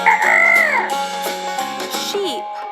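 A cartoon chicken clucks and crows in a children's farm animal game, a bright, close, stylized call with rising and falling squawks and a short chime-like musical backing.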